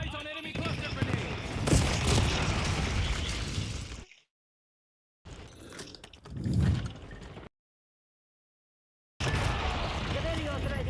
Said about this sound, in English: Eyes on enemy cluster grenade